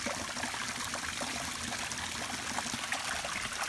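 Water pours down a pondless waterfall in a steady trickling, splashing rush that stays even from start to finish, moderately loud and close, with no talking.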